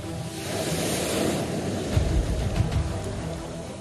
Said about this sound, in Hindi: करीब 8 फुट ऊंचे घेरे को पार कर लहरें किनारों पर बुरी तरह चोट कर रही हैं।